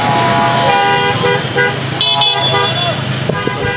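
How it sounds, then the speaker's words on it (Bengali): Vehicle horns honk amid loud, continuous Dhaka street traffic, with short toots standing out over the engine rumble and people talking nearby. "এই যে আপনি হর্নটা বাজালেন"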